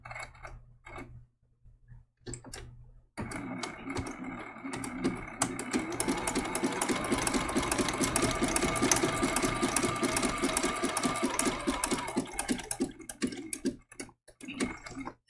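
A sewing machine stitches an appliqué outline around a baby giraffe's legs on a quilt, running in a steady close rapid whir for several seconds, with brief pauses and handling clicks before and after.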